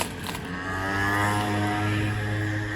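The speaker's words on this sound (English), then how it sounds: "That's a noisy motorbike." A noisy motorbike drones past on a nearby road, its engine note swelling and then holding steady, fairly close and alone without talk.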